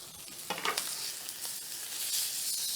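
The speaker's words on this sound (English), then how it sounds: "Now my steaks are ready to be turned." New York strip steaks sizzle loudly in a hot pan as they are turned, a steady close hiss of frying with a few crackling bursts when the meat is flipped, no talking.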